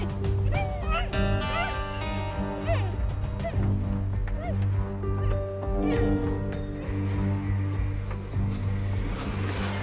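A dog, just hit by a car, yelps and whimpers in high, wavering cries over a loud, steady rumble of engine and road noise nearby.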